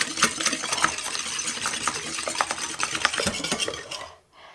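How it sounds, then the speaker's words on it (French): Egg and sugar beaten together in a bowl for a brioche dough, a rapid steady clatter of utensil against the bowl that runs without talk and stops abruptly near the end. "Je commence ma préparation en mélangeant mon œuf avec mon sucre."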